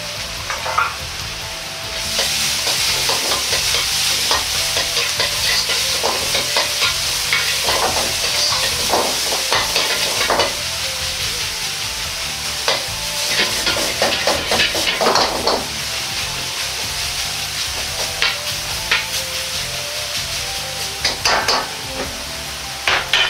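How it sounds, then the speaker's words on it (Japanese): Komatsuna stir-fried with crumbled frozen-tofu meat in a pan, a continuous close sizzle with repeated scraping and tapping of a spatula against the pan throughout. "小松菜も入れて炒めます"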